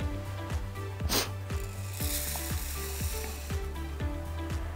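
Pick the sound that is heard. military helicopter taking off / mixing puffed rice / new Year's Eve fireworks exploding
mixing puffed rice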